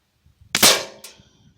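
Beeman P17 air pistol fires a pellet in one sharp, loud crack, followed shortly by a fainter metallic pellet impact, close by with quiet surroundings.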